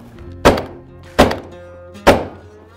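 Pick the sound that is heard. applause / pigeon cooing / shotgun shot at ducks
shotgun shot at ducks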